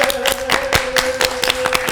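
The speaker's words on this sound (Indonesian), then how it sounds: "Guys, tepuk tangan dulu guys." A small group claps in an uneven, sparse rhythm during an Indonesian podcast, individual claps distinct over a steady background hum, close and moderately loud, no talk.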